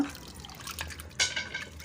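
Water drains and drips from cleaned mackerel fish into a strainer, with soft irregular dripping and trickling up close and a brief louder splash partway through.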